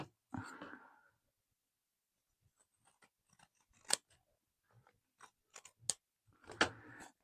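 Scissors snip off overlapping paper in a quiet craft session: a handful of crisp, separate cuts spaced out over several seconds, close and faint, with a brief rustle at the start.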